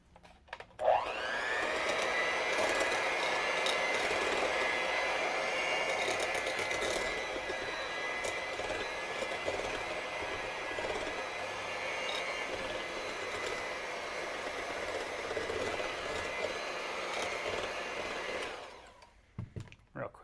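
A blender whirs through pumpkin pie filling in a loud, steady motor whine that holds for roughly eighteen seconds, then winds down and stops.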